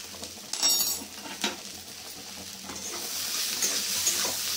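Kasuri methi and Kashmiri chili powder fry in a pan with a continuous sizzle. A couple of sharp stirring scrapes come early, and the hiss builds gradually toward the end. No speech.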